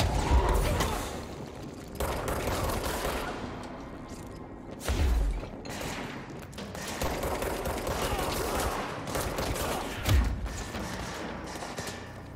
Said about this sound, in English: A lot of bullets.